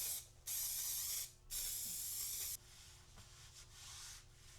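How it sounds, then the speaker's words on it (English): Cushionrite spray adhesive misted lightly onto sew foam for reupholstering an ottoman, two steady hissing sprays of about a second each, close and clear, followed by quieter rubbing and handling. "I centered it and lightly sprayed it with cushionrite to keep it from shifting while I sew."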